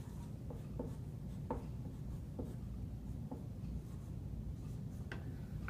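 Pen or pencil scratching across paper while a math problem is written out by hand, faint strokes and ticks in an irregular rhythm over a steady low room hum, with no talking.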